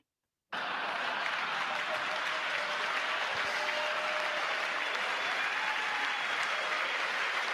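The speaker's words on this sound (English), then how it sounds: "I can't remember what they're clapping about there" Audience clapping comes from a played recording of an address, starting abruptly after a short silence and continuing as a steady, somewhat distant wash of applause, with faint voices mixed in.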